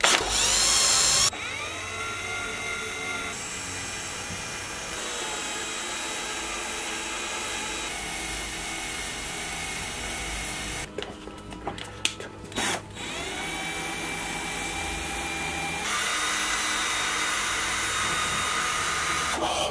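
A small handheld drill spins a cardboard postal tube with a glue stick fitted on its end, giving a steady whirring motor drone that runs alone for most of the stretch, briefly sputtering and cutting out midway before revving back up louder.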